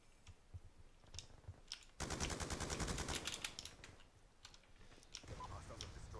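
A Mark 48 light machine gun fires in Black Ops 2 multiplayer. A long, loud, rapid burst comes after scattered clicks, followed by another sustained stretch of fire near the end.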